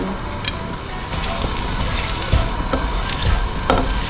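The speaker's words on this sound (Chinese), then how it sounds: "锅内放入一些油，把姜末放进来爆香" Minced ginger sizzles in hot oil in a wok, a loud, dense crackle close by that runs steadily for a few seconds with occasional stirring knocks.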